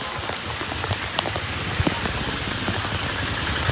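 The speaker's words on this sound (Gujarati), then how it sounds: "પોરબંદરમાં વરસાદ ચાલુ છે" Heavy rain pours down steadily in Porbandar, a dense continuous hiss with scattered sharper drops close by and no voices.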